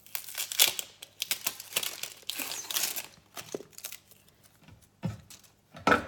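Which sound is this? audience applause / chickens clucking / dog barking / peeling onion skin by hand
peeling onion skin by hand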